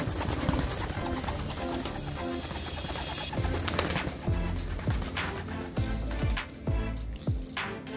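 Pigeons coo repeatedly on a rooftop, low soft rolling calls repeating over a steady background din, with a few sharp clacks and flaps near the end.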